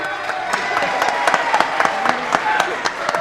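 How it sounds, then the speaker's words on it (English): A studio audience applauds on cue during a practice run, producing a dense, steady wash of many hands clapping at close range with sharp individual claps standing out. "1, 2, 3, applause"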